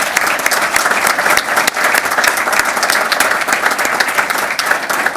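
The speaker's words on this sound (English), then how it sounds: "So would you please give Mike Kirkopoulos a round of applause and our community thanks." Loud, sustained audience applause at a hybrid town council meeting, many hands clapping steadily for several seconds honouring a community member, with a faint crowd murmur underneath.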